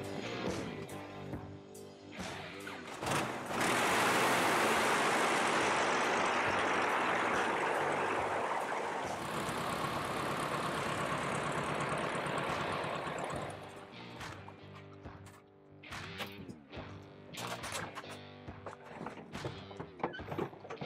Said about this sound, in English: That's sounding pretty good. It still idles up. I mean, it's definitely smoothing out a lot more.